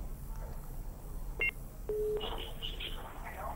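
A phone-in call line connects on a Telugu health talk show: soft electronic tones and a short steady beep sound faintly over low background hiss before the caller comes through.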